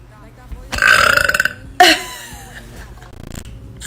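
A woman lets out a long, loud, rattling burp close to the microphone, followed by a second shorter burp and some quieter throat and mouth sounds.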